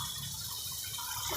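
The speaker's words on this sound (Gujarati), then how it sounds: "મસાલો ચડી જાય એટલું આપણે પાણી નાખીશું" Water pours from a tap or vessel into a pan of cooking masala for a Gujarati tomato and fenugreek leaf curry, a short, steady close splash with no talk.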